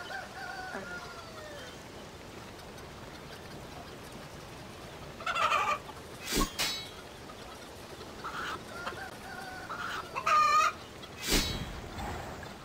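Chickens in RuneScape cluck in short bursts over a quiet game background, several separate calls spaced across the stretch, moderately close.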